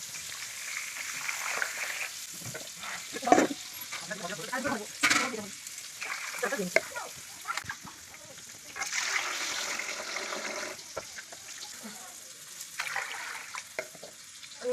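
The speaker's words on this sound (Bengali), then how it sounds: "ভালো করে ধুয়ে নিচ্ছি দু থেকে তিনবার জলটা পাল্টে পাল্টে ধুয়ে নিচ্ছি" Rice for vegetarian khichuri being washed by hand, irregular close swishes and splashes of water with quieter gaps between them, as a voice speaks now and then.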